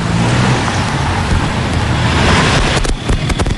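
Heavy road traffic on Roxas Boulevard rumbles loudly and continuously, with engines and tyre noise close by and a brief louder passing burst near the end.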